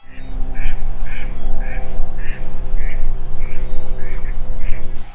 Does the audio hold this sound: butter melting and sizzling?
no